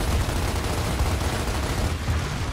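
Dense, continuous gunfire rattles through a Gears of War: Ultimate Edition firefight, a close, loud barrage of rapid shots with no pauses and no voices.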